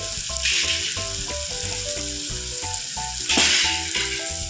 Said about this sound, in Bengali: পেঁয়াজটা ভাজা হয়ে গেছে, এরপর আমি আদা রসুনের পেস্টটা দিয়ে দেবো